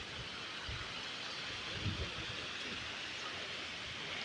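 Heavy downpour in a village, a steady dense hiss of rain falling on surfaces that stays even and close throughout, with no voices.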